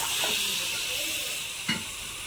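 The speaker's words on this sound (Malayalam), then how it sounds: "അപ്പം ഞാൻ ഇതിലോട്ട് നമ്മുടെ ചിക്കൻ ഇട്ട് കൊടുക്കാൻ പോവാണ്" Chicken goes into a hot pan for a Nadan chicken curry, giving a soft, steady sizzle and hiss. One brief clatter stands out near the end.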